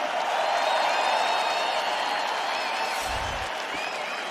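An arena crowd at a UFC featherweight title fight applauds the fighters with sustained clapping and light cheering, steady throughout, with a brief low thump near the end.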